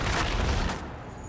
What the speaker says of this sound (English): they decide to blast their way in.